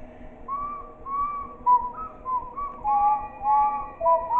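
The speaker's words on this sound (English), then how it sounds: "What is with the back-to-back whistling?" Someone whistles a wavering, meandering tune in short phrases, fairly soft and clear, with quiet background hum, in the video game The Nightshift At Baldi's School House.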